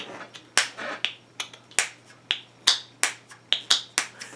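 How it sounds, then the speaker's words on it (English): Bottles of oils and lotions opened and closed one after another during a spa treatment, giving a dozen or so sharp, close clicks and pops at an uneven pace, each fading quickly into a quiet room with a low steady hum beneath. "she's like opening and closing bottles to like put oils and lotions and stuff"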